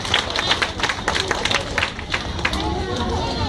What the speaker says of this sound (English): Give her a big round of applause, everyone